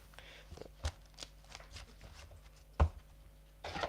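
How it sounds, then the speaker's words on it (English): A deck of Pokemon trading cards shuffled by hand in a few quick riffling bursts, with soft taps and one sharp knock, close and fairly quiet. "Let me throw a card in and give them a shuffle"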